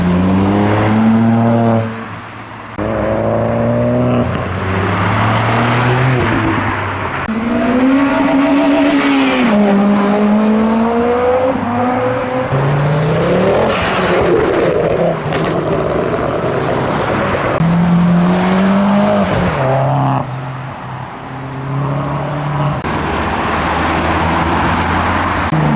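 Tuner cars, including a Nissan S14 and a Mini, roll into a November car meet, engines revving and rising and falling in pitch as they pass, with occasional tire squeal; loud and close throughout.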